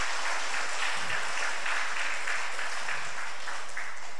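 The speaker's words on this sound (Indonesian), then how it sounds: "Tepuk tangan untuk kita semua." Steady applause from a large crowd at a Buddhist temple inauguration in Meranti, Indonesia, a continuous wash of clapping with a few low thumps underneath.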